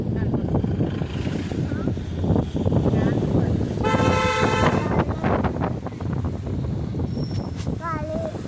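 A bus pulls up during a rainy journey, its horn blaring in a sustained honk among road rumble and wind noise. People talk over it, and shorter toots follow.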